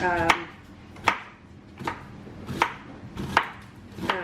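A knife dices food on a cutting board during Thanksgiving meal prep. Six crisp, evenly spaced chops ring out close and clear, with no talking.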